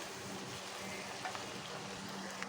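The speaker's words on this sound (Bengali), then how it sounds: "এবার দিলাম পেঁয়াজ, পেঁয়াজটা লাল করে ভেজে নেবো" Onions frying in a pan with crushed whole spices for a dhaba-style paneer do pyaza, a soft, even sizzle with a few faint stirring clicks, quiet and steady throughout.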